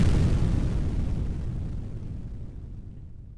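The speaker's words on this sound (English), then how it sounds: "Short Stuff sets an explosive off" An explosive going off, a loud low boom with a heavy rumble that starts at full strength and then slowly fades and decays over a few seconds, with no voices.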